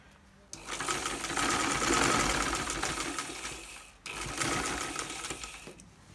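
A sewing machine stitches the neck placket of a kameez in two steady running bursts, broken by a brief pause near the middle, loud and close with no talk over it.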